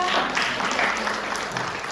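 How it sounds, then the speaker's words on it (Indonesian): A church congregation at a worship service applauds, a short burst of many hands clapping, fairly close and steady for about two seconds, with no talk over it. "tepuk tangan"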